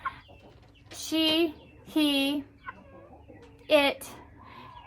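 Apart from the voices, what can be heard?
chicken clucking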